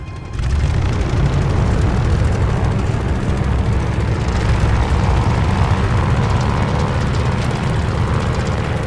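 A WWII warplane engine roars at full power during a carrier takeoff in Call of Duty: Vanguard, a loud, dense, sustained rumble with heavy low-end that holds steady throughout.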